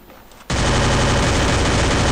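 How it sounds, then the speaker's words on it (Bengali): Gunfire in the mobile shooter Free Fire erupts suddenly after a quiet half-second and then roars on as a loud, dense, continuous barrage up close. "এ ভাই আমাকে মারতেছে স্নাইপার দিয়া"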